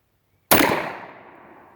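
A single shotgun blast from a bench rest firing a Pellagri buckshot shell, one sharp loud report with a sudden onset and a decaying outdoor echo.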